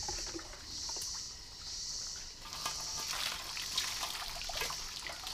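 Bathwater splashes and trickles with a steady bright wash, growing more active and choppy partway through, close by.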